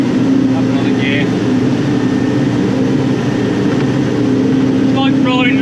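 A CAT 992D wheel loader's huge diesel engine drones loud and steady from inside the cab as it shifts up a gear, with a constant low hum, faint clinks, and someone speaking briefly over it.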